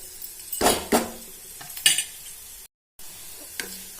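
Bitter gourd fry being stirred in a pan, with distinct scrapes and clinks of a utensil against the pan over a low sizzle, a brief dropout partway through.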